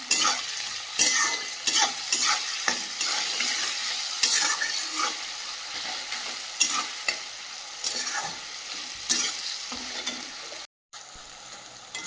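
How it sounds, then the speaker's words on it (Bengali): Onions sizzle in hot oil while a spatula scrapes and stirs the pan in repeated strokes, close and clear, with a brief silent gap near the end. "পেঁয়াজটা খুব সুন্দর ভাজা হয়ে গেছে"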